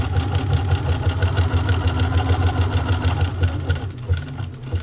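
A sewing machine stitches a zigzag bar tack, running as a steady, close, rapid mechanical whir with even rhythmic pulses that ease off near the end.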